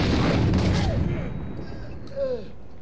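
A shotgun blast in the Watch Dogs video game on PS4: one loud, broad boom right at the start that tails off slowly over a couple of seconds, with faint game sounds after it.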